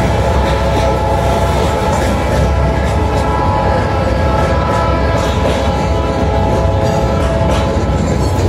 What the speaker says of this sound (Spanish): cuando tocó bocina ahí llegando al paso a nivel